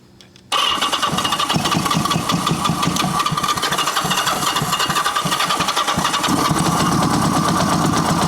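A 1980 Kawasaki KZ750 motorcycle engine catches after a brief quiet moment and keeps running roughly, a loud, uneven, lumpy chugging idle with irregular knocks and surges continuing steadily throughout.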